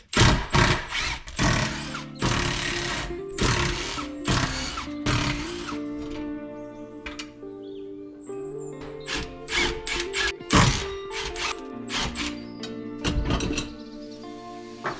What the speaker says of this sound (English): I'm gonna go ahead and get these rotors and sprockets pulled off of these